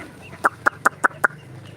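Chickens cluck five times in an even rhythm, close by, over a quiet background with no talking.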